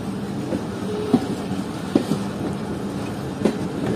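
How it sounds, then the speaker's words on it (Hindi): A train approaching Sahiwal railway station, rumbling steadily with a few sharp wheel clacks spaced a second or so apart, fairly close and loud against a continuous rolling background. "ये 9:15 ट्रेन जो है अप्रोच कर रही है साहिवाल रेलवे स्टेशन पर"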